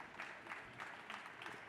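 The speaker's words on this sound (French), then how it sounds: "On peut applaudir cette signature" An audience claps after an agreement is signed at a formal ceremony, a steady, faint patter of applause from a moderately sized crowd heard from a distance.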